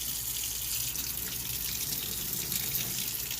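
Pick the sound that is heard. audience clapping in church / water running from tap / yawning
water running from tap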